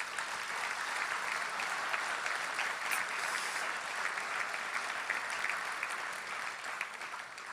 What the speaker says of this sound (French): donnez à toutes ces personnes une bonne main d'applaudissements.